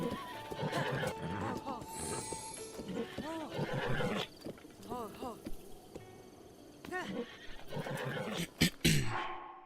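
Repeated horse neighs and whinnies from a battle horse in The Legend of Zelda: Breath of the Wild, over clip-clopping hooves and game noises, with a voice talking in the background; loud clatter near the end.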